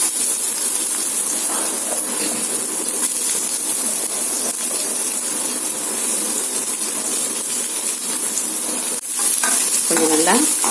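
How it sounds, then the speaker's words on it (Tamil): Finely chopped onions sizzle and fry steadily in hot oil with mustard seeds and urad dal, a continuous close hiss with occasional stirring scrapes, no voices. "வெங்காயம் போடுறேன்."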